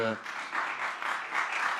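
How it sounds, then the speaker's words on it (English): Audience at a small gift ceremony applauds, a steady wash of clapping that starts after a brief voice and continues evenly at moderate distance. "let's applaud this moment"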